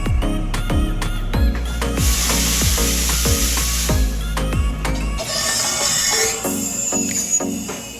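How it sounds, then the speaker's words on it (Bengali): An espresso machine steam wand hisses steadily as it heats milk for Italian coffee, with the hiss rising loud and close in the middle under rhythmic music with sharp beats. "দুধ গরম করতেছি"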